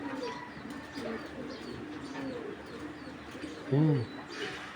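Racing pigeons on a pigeon farm coo softly through the clip, with one louder, close coo near the end over steady low background noise.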